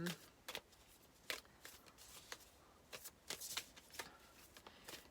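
Animal oracle cards being shuffled by hand in short papery riffling bursts, scattered and fairly faint.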